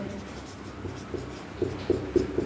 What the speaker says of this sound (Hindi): पाठ्य पुस्तक का नाम लिखेंगे